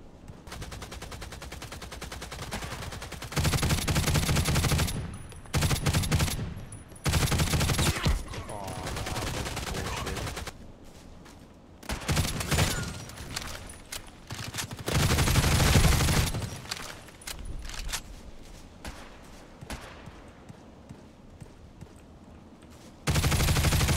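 Gunfire in the online shooter Contract Wars with a G36C rifle, loud bursts of rapid shots and fusillades alternating with quieter gaps over a sustained stretch.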